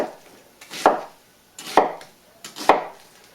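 A knife slices through vegetables for chicken stock, cutting quarter-inch slices on a board in three separate crisp chops, each with a soft scrape, fairly close and with no talking.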